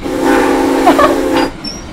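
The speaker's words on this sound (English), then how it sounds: "I've got a whistle up here to warn people that we're coming at a crossing." A train whistle is blown to warn of an approaching crossing, a loud sustained hissing, steam-like blast lasting about a second and a half up close, then cutting off.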